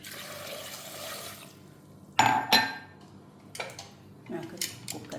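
Water poured into a pressure cooker holding drumstick soup ingredients with a small piece of carrot, a steady splashing pour for about a second and a half, then metal clinks and knocks of the pot nearby.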